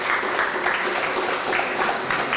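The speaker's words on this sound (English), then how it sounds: "Let's give him a big round of applause for that." An audience claps for a first-prize winner at a charity awards event, dense continuous applause filling the whole stretch, loud and fairly close, with no talking over it.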